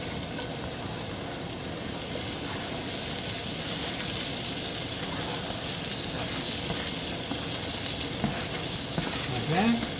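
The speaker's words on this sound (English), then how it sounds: "And then I'm going to be adding my onions. These are onions and the shallots are going in." Onions and shallots sizzle steadily in a hot pan for a stir-fried cabbage with garlic butter shrimp dish, a constant close frying hiss with a brief clatter near the end.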